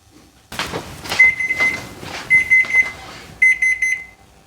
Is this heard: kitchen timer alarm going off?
yes